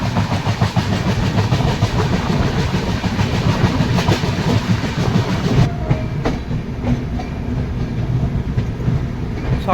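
An express train on the New Delhi to Malda Town run rolls slowly into Pratapgarh Junction, its steady rumble and rhythmic clickety-clack of wheels on rail joints continuous and close throughout, with no voices.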